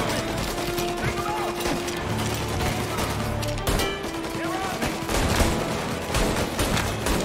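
Dense, sustained gunfire from a gangster-era shootout in the video game Mafia: Definitive Edition, with rapid bursts and shots overlapping continuously at high loudness, mixed with in-game voices and music.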